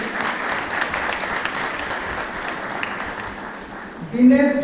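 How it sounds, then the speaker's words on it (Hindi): Dense, steady applause from an audience at a Purush Diwas student felicitation ceremony in Rajgangpur, continuing throughout, with a voice briefly rising over the clapping near the end. "तालियां हो जाए जोर से।"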